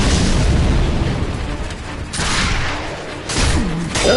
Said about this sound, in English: Careful where you fire that cannon.